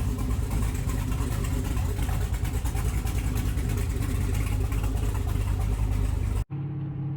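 A work truck fitted with big turbos drives along, its engine droning loud and steady inside the cab, then the sound cuts off suddenly and a lower, quieter rumble follows.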